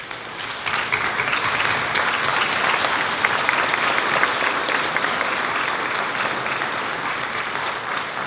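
An audience at a Red Cross heroes event in Delaware, Ohio applauds advisory board members with loud, dense, continuous clapping that holds steady for several seconds.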